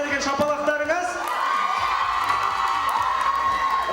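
Audience cheering and whooping at a university student spring festival, a dense, loud crowd roar that holds steady for the full stretch, with a tonal musical layer running underneath.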